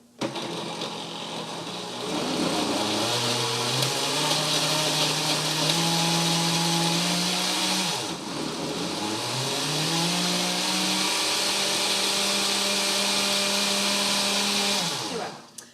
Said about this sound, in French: Donc, on va commencer à mixer